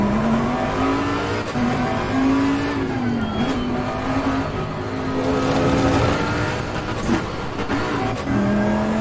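A GT race car engine on a hot lap in Assetto Corsa Competizione VR roars loud and close the whole way, its pitch rising and dropping through gear changes and corners, with faint tyre noise underneath.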